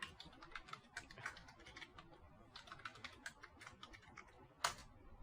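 A computer keyboard is typed on to enter a root password during an operating system install, producing quiet, quick irregular key clicks in short bursts with a brief pause midway and one sharper tap near the end.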